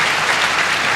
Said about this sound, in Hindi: तो सर के लिए भी एक बार ताली हो जाए